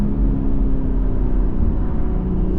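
Stage 2+ BMW M140i exhaust burbling on a downshift, a steady loud low rumble and crackle of engine noise throughout, with no talking.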